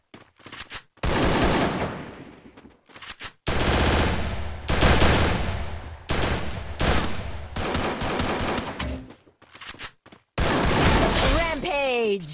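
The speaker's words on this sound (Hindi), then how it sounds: "मैं लूट करने जाती हूँ और फिर गन साउंड और आ रहे होते हैं" Gunfire in the Free Fire battle royale game comes in loud, close bursts of rapid automatic shots separated by short silences, with a sharp ricochet-like sweep at the end.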